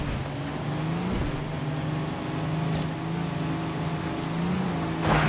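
Racing car engine in Forza Horizon 3 drones and revs through corners, a steady mid-pitched roar rising and falling as gears shift, heard alone without talking.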